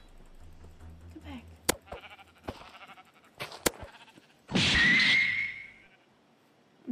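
A Minecraft sheep lets out a single loud bleat midway, preceded by soft clicks and sharp game sound effects in a quiet scene.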